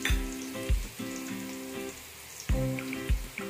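Whole spices and masala sizzling in hot oil in a pan for soya chunks biryani, a steady close crackle punctuated by a few sharp clinks of a spoon against the pan.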